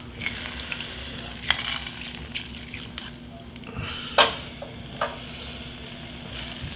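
Lemon juice squeezed into a pan of seared scallops sizzles in a soft frying hiss, broken by a few sharp splattering bursts and drips, close and without speech.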